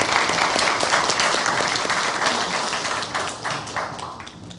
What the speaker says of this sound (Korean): 우리 성가대와 우리 관현악하는 친구들을 위해서 우리 감사의 박수, 격려의 박수 하겠습니다.